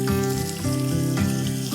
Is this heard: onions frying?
yes